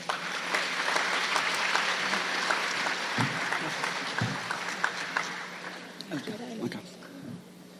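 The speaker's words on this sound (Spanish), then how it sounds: "Les invito a dar una cálida bienvenida con un fuerte aplauso" Warm applause from a nursing congress audience welcoming a speaker, steady and moderately loud, with a few sharper claps and some voices mixing in toward the end.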